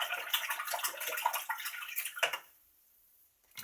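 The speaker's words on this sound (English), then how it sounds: "rinsing the brush again" An acrylic paintbrush is rinsed in a water container, giving close, soft splashing and swishing for about two seconds, then near silence with a small clink at the end.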